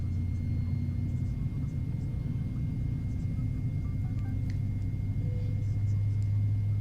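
Simulated MD82 jet engine spooling up and stabilizing during start in Microsoft Flight Simulator 2020, a steady low rumble with a rising tone near the end.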